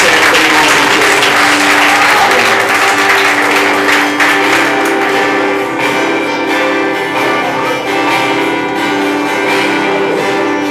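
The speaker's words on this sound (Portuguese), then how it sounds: "Dá uma salva de palmas a Jesus nessa noite." A church congregation claps loudly during an evening service, sustained applause layered over ringing instrumental tones and crowd voices, continuing without a break.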